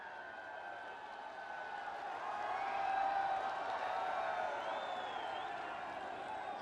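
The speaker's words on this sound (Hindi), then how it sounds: "आप सबकी जोरदार तालियों के साथ" A large crowd at a public welcome ceremony for the Prime Minister in Kashi applauds and cheers, a faint, distant, steady wash of clapping and crowd noise that swells slightly midway.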